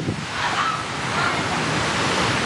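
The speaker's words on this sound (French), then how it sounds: "poursuivi par l'une des vagues meurtrières" Tsunami waves surge and crash onto a tourist beach in a continuous loud roar of churning surf with wind buffeting the microphone.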